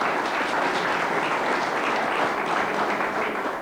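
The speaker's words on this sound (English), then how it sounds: "You might give him a big round of applause, ladies and gentlemen." A studio audience claps together in a broad, even wash of applause that holds steady for a few seconds, with no voices over it.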